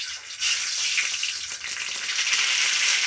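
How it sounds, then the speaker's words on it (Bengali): Mustard seeds tempering in hot oil in a wok make a bright, close hiss and crackle that flares up quickly and holds steady for a few seconds without any voices. "টমেটো টক করার জন্য আমি কড়াই সর্ষে ফোড়ন দেব।"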